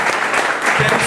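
An audience at a book launch claps in steady, loud applause that fills the short moment, with a voice speaking partly over it.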